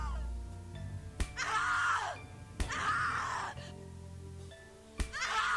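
Screams from a character in the horror game The Cat Lady, three long harsh cries rising and falling between sharp thuds, loud and close against a low droning music bed.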